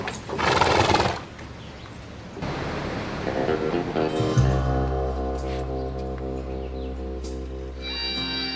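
Police horse whinnies loudly in an opening burst, followed by quieter hooves and street ambience, then a steady low hum with tonal layers underneath.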